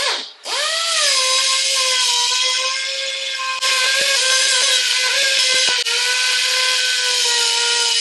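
A steady high-pitched whirring of a power tool running a Scotch-Brite abrasive pad against the face of a metal brake disc, continuous and close, with a few brief dips.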